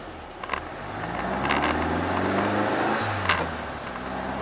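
A Volkswagen Bug fitted with an EMPI bus shifter in hot rod style pulls away and accelerates in first gear, its engine droning steadily and rising, heard from inside the car with a few brief clicks.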